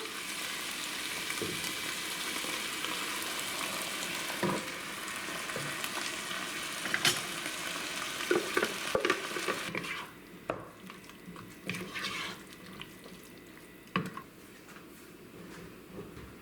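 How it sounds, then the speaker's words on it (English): Beef frying in a pot with tomato sauce, a steady close sizzle that grows quieter partway through, with a few clinks and scrapes of stirring. "we leave here for some minutes to broil the beef"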